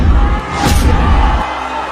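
Boxing arena crowd roaring and cheering throughout, a dense loud wash of voices swelling briefly, then settling to a steadier hum near the end.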